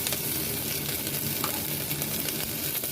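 Ingredients frying and being stirred for paya (trotter) soup: a continuous dense sizzle with scraping stir strokes, close and steady, no voices.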